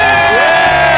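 A studio audience at a Vietnamese TV show gives a brief, loud burst of cheering and shouting, with a voice rising through the crowd noise.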